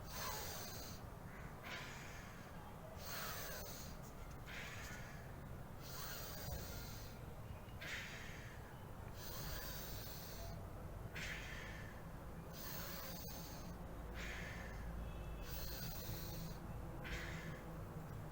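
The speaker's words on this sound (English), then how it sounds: "Inhale and raise your hands up." Slow, deep breaths repeat steadily during a hand stretch breathing exercise, each inhale and exhale a long airy hiss, close and quiet, with no talking.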